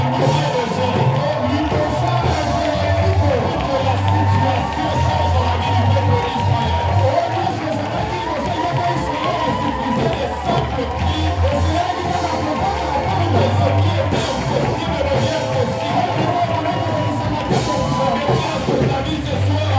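A church congregation cheers and shouts in a loud, continuous roar that runs the whole time, while a preacher's voice carries on over the crowd.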